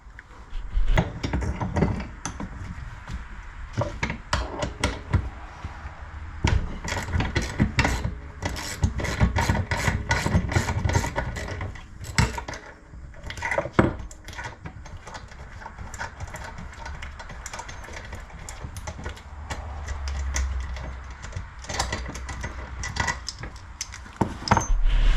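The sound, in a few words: fitting a wheel onto a belt tensioner, 1991 Dodge Dakota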